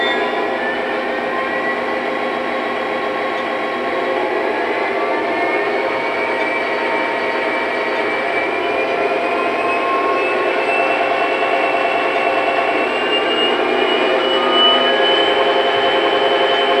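A GP35 diesel locomotive engine runs steadily through its RPM notches, a continuous droning rumble with rising tonal whine that builds gradually in pitch and intensity, heard alone without any talk.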